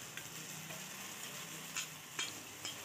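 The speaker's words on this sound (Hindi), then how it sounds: "ये जो पेस्ट है इसे हमें अच्छी तरह से भून लेना है" Spice paste frying in oil left over from frying tangra fish for a Bengali fish curry with poppy seed, a steady quiet sizzle with a few brief clinks of stirring, no voices.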